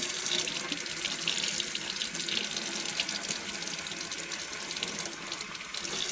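A water tap runs steadily into a container while liquid black soap is being made, a continuous close pour of splashing water with no talk.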